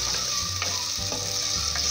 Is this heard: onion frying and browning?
yes